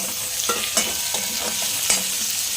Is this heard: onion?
yes